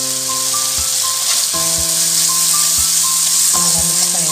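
Tomatoes and mint sauté in a pan while being stirred, giving a loud, steady sizzle with periodic scraping strokes and a faint tonal hum underneath.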